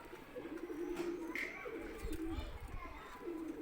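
Pigeons coo softly in low, throaty bursts, several birds close together, with a voice talking over them.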